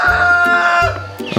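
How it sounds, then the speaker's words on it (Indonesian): A rooster crows in the morning around half past seven, loud and close: one long drawn-out call, then a second crow starting near the end, with no talk over it. "Pagi itu suara burung, ayam."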